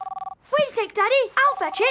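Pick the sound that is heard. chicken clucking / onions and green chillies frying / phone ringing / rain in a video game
phone ringing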